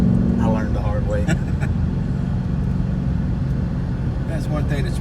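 A 2019 Ford Mustang S550 PP2 with a six-speed manual, driven on a race track, gives a steady, loud engine drone and road rumble throughout, with a person talking over it.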